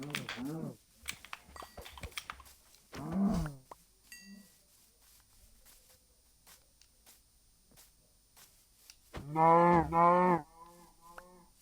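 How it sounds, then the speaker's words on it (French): Cows mooing in a video game, several loud drawn-out calls with quieter gaps between them, with no talk over them. "moi, je vais buter les vaches sur la route"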